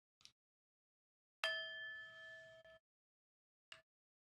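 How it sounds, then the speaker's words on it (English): A meditation bell in a quiet room rings once with a clear, sustained tone that hangs for over a second before stopping. Two brief, softer strikes come before and after it. "And we'll begin the meditation with the sound of the bell."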